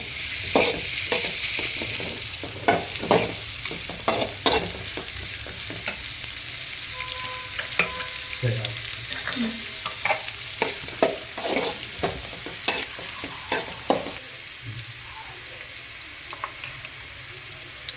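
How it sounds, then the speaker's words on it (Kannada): Deseeded, finely chopped capsicum fries in oil with carrot and cabbage for chicken fried rice. A constant sizzle runs under repeated clattering spatula strokes against the pan, close and fairly loud. "ಕ್ಯಾಪ್ಸಿಕಮ್ಮು ಬೀಜ ತೆಗೆದಿಟ್ಕೊಂಡು ಹೆಚ್ಕೊಂಡಿರೋಂಥದ್ದು ಸಣ್ಣದೊಂದು. ಫ್ರೈ ಆಗಲಿ ಚೆನ್ನಾಗಿ."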